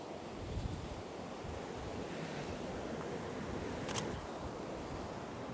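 Ocean waves breaking on a shore at sunset, a steady close wash of surf with wind buffeting the microphone and a brief click partway through.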